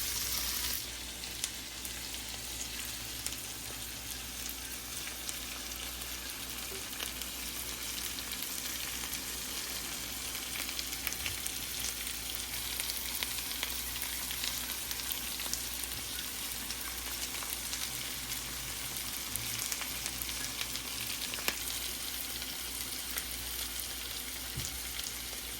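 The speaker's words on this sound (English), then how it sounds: "Let's throw them right there in the pan" Asparagus seasoned with salt and white pepper sizzles steadily in a pan, a continuous dense crackling hiss that holds evenly for a long stretch, close and fairly loud with no voices.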